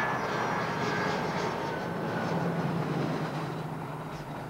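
An airplane at Bromma Airport gives off a steady, broad engine roar that holds at moderate loudness throughout and eases slightly toward the end, with no voices.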